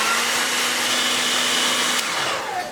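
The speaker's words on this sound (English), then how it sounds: "Just going to heat him up again with the blow dryer, get him ready and prepped for work" A blow dryer runs steadily and loudly, blowing hot air onto a 2020 Black Series Clone Trooper action figure to soften its toy helmet, with a continuous whooshing drone and a faint click near the end.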